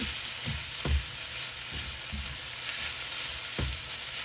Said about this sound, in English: Going to get all of that egg good and mixed into the hash browns and your bacon.